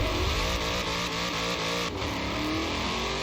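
A Chevrolet Corvette engine in Forza Horizon 4 revs up under hard acceleration, a loud continuous throaty roar rising in pitch, with a brief dip at a gear shift.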